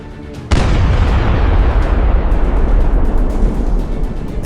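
A Su-122 self-propelled gun shell strikes a Ferdinand tank in a video game, a sudden loud, close boom that swells into a long, heavy roaring rumble.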